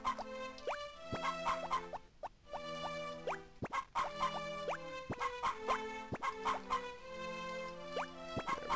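Chickens clucking in the Harvest Moon farming game during winter, mixed with bright, plinking chiptune-style background music that plays steadily throughout at moderate volume.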